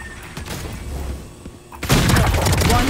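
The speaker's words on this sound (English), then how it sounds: "Bomb buddy out." A bomb buddy ability detonating in a tactical shooter video game: a muffled stretch of shots and thumps, then a loud sudden explosion that rolls on through the final second, with players talking.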